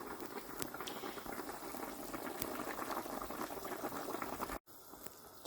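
Mutton yakhni broth boiling hard in a pot, a dense continuous bubbling and popping up close, with a brief cut near the end before the bubbling resumes.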